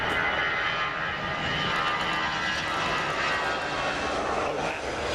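A heavy jet airliner roars on takeoff from a runway at Frankfurt Airport, a dense, continuous engine rumble that stays loud and close throughout.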